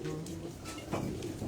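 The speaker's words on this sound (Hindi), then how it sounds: "ये जी कबूतर जो 7-16 पे बैठी थी, नीलम मादा, ये वो कबूतरी है" Pigeons, among them a Neelam female, coo on a rooftop, giving soft throaty calls in short, repeated phrases at a faint, moderate distance with no speech.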